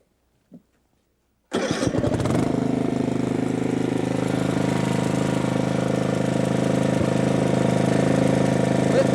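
A small Tecumseh engine starts with a brief sputter after silence, then roars continuously at about 3,300 RPM, loud and close.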